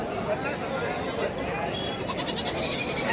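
Goats bleating at a crowded livestock market in Shirur, Pune district, thin wavering cries rising over a constant murmur of people talking nearby.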